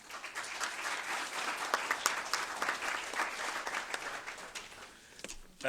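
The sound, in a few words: audience applause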